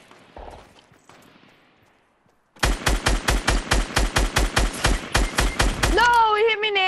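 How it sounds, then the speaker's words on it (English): Rapid automatic gunfire rattles out in Fortnite Battle Royale, a steady, loud burst of evenly spaced shots that follows a quieter stretch. A rising electronic whine enters near the end, and voices are faint underneath. "Oh, I'm getting shot at."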